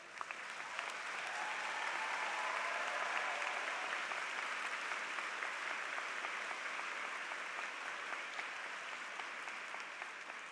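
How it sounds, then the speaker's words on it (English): Graduates at a spring university commencement ceremony applaud their faculty and staff with sustained, dense clapping from a large crowd that holds steady for the full stretch. "I know the graduates want to applaud their professors and staff members"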